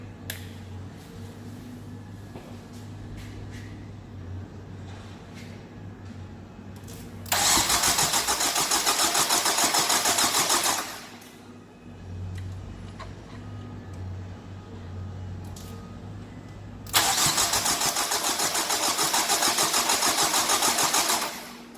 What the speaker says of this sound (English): let's go over here and crank it